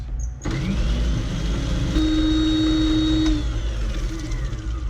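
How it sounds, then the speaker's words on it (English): Food processor whirring as it blends a sofrito of vegetables for roasted tomato sauce, starting abruptly and running as a loud, steady motor drone with a sustained whine, no talk. "we're gonna process this sofrito, and it doesn't have to be like it's pureed, but just until it's pretty smooth"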